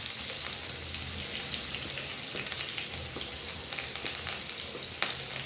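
Steady crackling sizzle of mustard seeds popping in hot oil with chana dal, green chilli and curry leaves, scattered sharp pops over a continuous frying hiss, close up.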